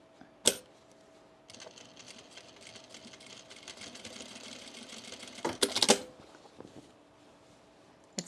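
A sewing machine runs an easing stitch on cargo pants fabric, a steady mid-level whir lasting about four seconds, bracketed by a few sharp clicks and handling knocks before and after.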